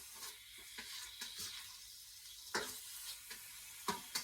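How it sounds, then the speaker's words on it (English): Turkey meat stir frying in a pan for a garlic turkey stir fry with red pepper, a low sizzle broken by repeated sharp utensil scrapes and clacks against the pan, nobody speaking. "so let's just stir fry this meat"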